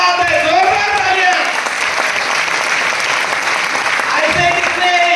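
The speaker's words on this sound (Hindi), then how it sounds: "क्या बात है, जोरदार तालियां।" A hall audience at a business seminar breaks into loud, sustained applause while a voice carries over the clapping.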